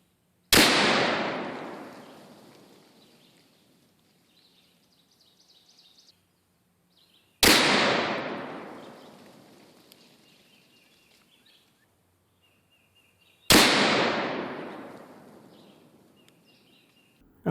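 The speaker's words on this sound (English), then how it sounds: "I'll be shooting off of a rest, which you can see in the picture there, and the distance to target is going to be 50 yards" Three very loud, booming shots from a .500 Magnum revolver firing 300gr Hornady FTX loads off a rest outdoors, spaced several seconds apart, each rolling into a long fading echo, with faint birdsong between.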